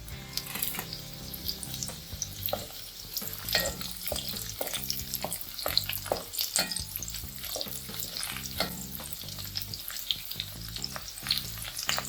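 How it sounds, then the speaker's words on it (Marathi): Garlic and green chillies sautéing in a pan for phodshi bhaji, a steady close sizzle broken by repeated scraping stirs, with no talking. "थोडा परतून घेऊया लसूण। मग हिरवी मिरची घालूया"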